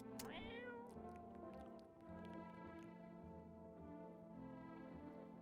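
A cat in a video game meows several times in a row, close and clear, with short rising and falling cries over a soft background hum.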